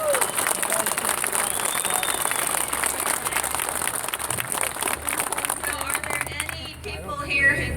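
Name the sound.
crowd applause at a rally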